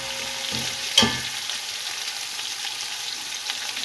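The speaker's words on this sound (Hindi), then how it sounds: "चिकन जो अच्छी तरह से फ्राई हो गया है" Chicken pieces frying in a pan for Afghani pulao give a steady close sizzle, with a single sharp clank of a utensil near the start and no voices.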